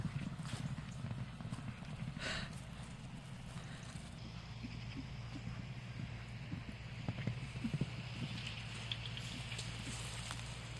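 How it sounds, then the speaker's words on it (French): A horse gallops over open ground, its hoofbeats a faint, distant, rapid clip-clop under a soft steady background hiss. "Regardez comme il est beau ce cheval quand il galope comme ça"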